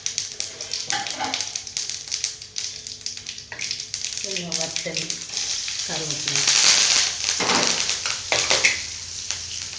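Mustard seeds crackle and sizzle in hot oil in a home kitchen, swelling into a brighter hiss midway, with voices talking over the frying throughout.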